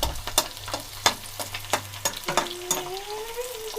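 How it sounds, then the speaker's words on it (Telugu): Onions, green chillies and curry leaves frying in a pan, a steady close sizzle broken by sharp stirring clacks and scrapes of a utensil, with a rising tonal squeak near the end. "దానిలోనికే మనం కట్ చేసి పెట్టుకున్న పచ్చిమిరపకాయలు ఇలా వేసి ఫ్రై చేసుకోవాలి"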